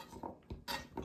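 A knife chops peeled potatoes on a board, giving a few sharp, close knocks of blade on wood spaced irregularly through a short quiet moment.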